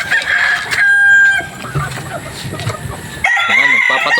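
Farm chickens, including a rooster, cluck and crow loudly and close by at feeding time. Crowing calls cut through the busy clucking, and a voice is faintly heard underneath.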